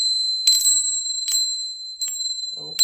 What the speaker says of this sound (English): I'm going to begin by clearing with my new Tibetan bells.